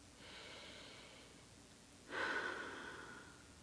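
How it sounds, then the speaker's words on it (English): A person takes slow, deep breaths: a soft, airy breath lasting about two seconds, then a louder, fuller breath that trails off. The breathing is close and alone, with no talking. "And then just take a breath."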